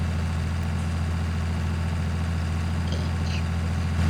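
A tractor engine in Farming Simulator 19 idles in a loud, steady low rumble with a constant drone and no break, and nobody speaks.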